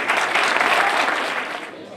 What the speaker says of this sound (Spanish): Un aplauso para el coro de Mayeusis.